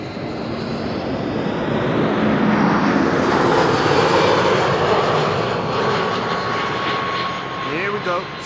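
An Airbus A340 jet at Amsterdam Schiphol Airport roars loud and close with a broad, steady engine rumble and hiss that swells and holds for several seconds, its tone slowly shifting as it passes.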